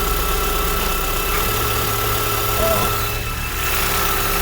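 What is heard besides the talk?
car engine idling, recorded with microphone under engine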